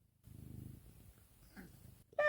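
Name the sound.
cat meowing and purring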